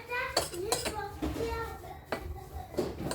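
Ingredients and oil stirred in a bowl, with repeated clinks and scrapes of a utensil against the dish in a quick, uneven rhythm, close and fairly quiet, and faint voices in the background.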